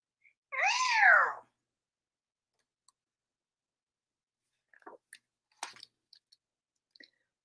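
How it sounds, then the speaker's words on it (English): A black cat gives one clear, drawn-out meow, loud and close, followed by silence and then a few faint scattered clicks and ticks. "A black cat."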